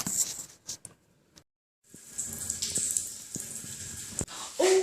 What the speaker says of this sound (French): On commence par la douche.